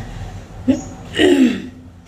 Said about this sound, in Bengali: সকাল থেকে উঠে দেখছি যে কাশি হচ্ছে খালি।